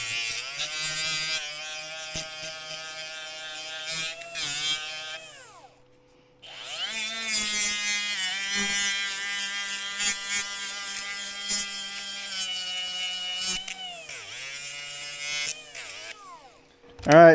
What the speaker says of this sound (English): I've cut this line and I've sanded it straight.